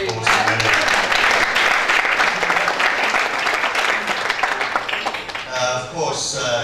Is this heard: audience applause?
yes